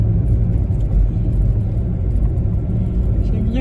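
A car drives on a road at about 60 km/h in a 70 zone, giving a steady low rumble and road noise from inside the cabin.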